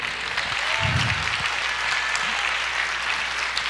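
A church congregation applauding during a sermon: dense, sustained clapping from many hands at a steady level, with a brief low murmur or voice partway through.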